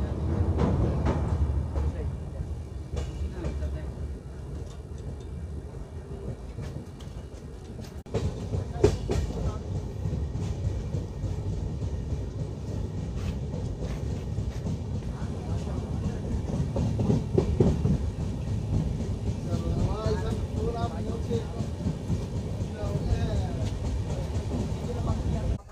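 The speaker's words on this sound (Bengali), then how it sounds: "আর ট্রেন এখন আমাদের বিয়াস নদীর ওপর দিয়ে যাচ্ছে" A passenger train crossing a bridge over the Beas river, heard from on board: a continuous rumble with rhythmic clickety-clack of wheels over rail joints, steady and moderately loud, with voices talking intermittently over it.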